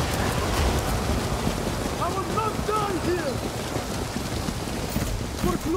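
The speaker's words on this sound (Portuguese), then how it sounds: "Cara, a chuva é muito ruim, cara. A chuva tira a nossa precisão, velho." Steady rain hissing across the battlefield in the Total War: Pharaoh strategy game, a constant wash of fine drops under faint in-game voices and chatter, loud and even throughout.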